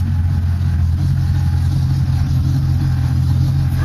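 Car engine running steadily close by, a low even rumble with no speech, as the car is shifted into drive.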